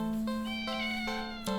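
A cat in a video game meows plaintively, drawn-out, with a few tonal inflections and a brief second cry at the end, clear and close with steady music beneath.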